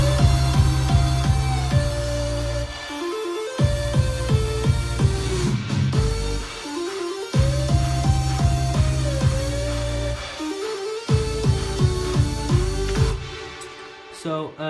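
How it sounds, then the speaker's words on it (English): A basic square-wave lead synth plays a repeating melodic riff over heavy bass and beat during a track's break, loud and continuous with short drops between phrases. "This one is a square lead. And this is just a really regular basic square"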